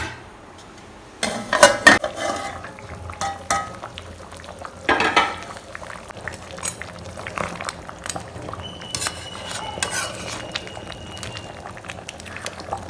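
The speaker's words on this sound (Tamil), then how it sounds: "நல்லா கொதிஞ்சிருச்சு." Village-style crab curry bubbles in a covered pot, a low simmer broken by sharp clinks of a lid and utensil against the pot near the start and midway.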